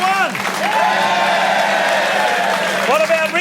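An audience cheers and applauds for contestant number 1, a continuous crowd roar with rising whoops and voices near the start and again toward the end.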